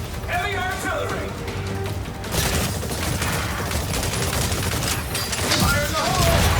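Heavy artillery fire in the video game Exoprimal, a dense loud barrage of booming blasts rolling on continuously over game effects, with a voice briefly audible early on.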